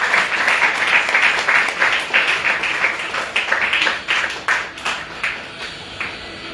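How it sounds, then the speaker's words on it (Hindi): Audience applause for Bali sir at a Vestige direct-selling marketing event, a dense, lively clapping that stays strong, then breaks into fewer, sharper individual claps as it tapers off. "बाली सर के लिए होते रही तालियां, एक बार क्लैप होते ही रहे"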